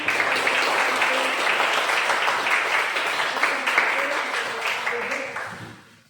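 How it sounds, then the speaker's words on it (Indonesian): A classroom of students claps together in sustained, dense applause lasting several seconds before tapering off, with some voices mixed in. "berikan tepuk tangan apresiasi"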